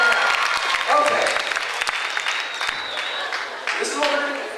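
An audience at a mentalist show breaks into a burst of clapping that starts loud and gradually thins, with someone speaking over it.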